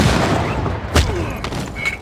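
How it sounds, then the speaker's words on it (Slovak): Sharp booming cannon blasts in Civilization VI ring out in quick succession, one heavier bang standing out amid a steady background rumble of battle. "to už majú dela"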